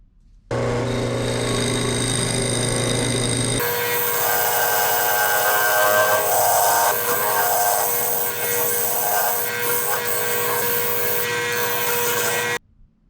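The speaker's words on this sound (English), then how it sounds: "For cutting the mortise, I'm going to be using a scraper and a skew" A wood lathe spins a bowl blank while a scraper and skew chisel cut the mortise, giving a loud, steady whirring hum with a rougher scraping texture after the first few seconds, then stopping abruptly near the end.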